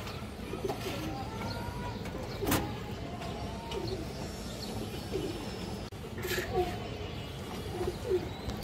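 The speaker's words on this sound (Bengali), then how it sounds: "এই দেখেন একদম সুস্থ সবল কবুতর" Healthy pigeons at a market stall coo softly in low repeated phrases, mixed with other bird calls against steady outdoor background noise, with a brief louder burst partway through.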